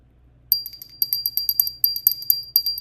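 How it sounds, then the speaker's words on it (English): A little Christmas bell rung by hand, giving a quick series of bright, close tinkling strikes that repeat irregularly for a couple of seconds after a short quiet start, with no talking. "It's a little Christmas bell."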